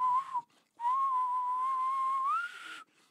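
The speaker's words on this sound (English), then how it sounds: "there's this whistle sound in the background that I really like" A whistled melody sits in the beat of a rap track. A clear tone glides and holds, breaks briefly, then returns and rises near the end, with no talking over it.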